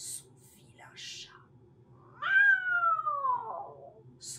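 A single drawn-out cat meow, close and clear, falling in pitch over about a second, set among faint, breathy voice sounds.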